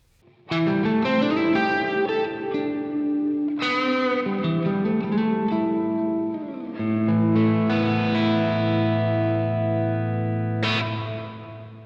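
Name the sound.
guitar with maximum reverb time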